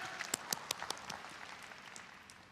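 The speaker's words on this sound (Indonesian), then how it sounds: "Kita beri tepuk tangan, haleluya." Faint, scattered clapping from a church congregation answering a pastor's call to applaud, a few louder claps up front that thin out quickly into a quiet murmur of room noise.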